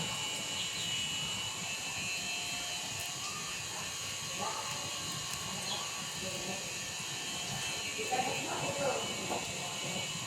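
An air conditioner runs indoors in a home, giving a steady, even drone with a faint hiss throughout, while indistinct voices murmur in the background.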